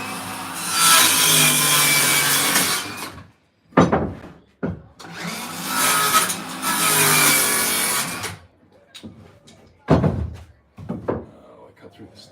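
A handsaw cuts wood while building a pantry and passes through a metal staple, giving two long rasping stretches of back-and-forth strokes, then a few sharp knocks and scrapes, close and loud.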